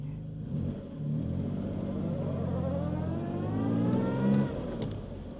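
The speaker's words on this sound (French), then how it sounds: "Nous là sur notre piste d'essai, contact, démarreur. Première." Engine of a 1956 Jaguar XK140 SE on a test track, a steady low rumble that rises in pitch as it pulls away and accelerates in first gear, fairly close and continuous.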